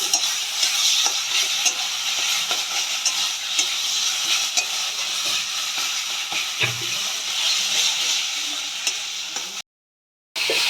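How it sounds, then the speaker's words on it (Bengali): Steady loud sizzling of prawn paste frying in a hot pan, with occasional scraping stirs, continuous until it cuts off abruptly near the end. "চিংড়ি মাছটা দিয়ে আমরা ভালো করে ভেজে নেবো"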